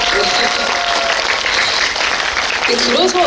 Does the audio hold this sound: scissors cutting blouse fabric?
no